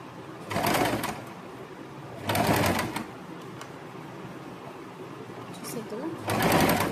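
A sewing machine runs in three short bursts while stitching the seam of a yoke nighty, quiet pauses between them and faint background sounds.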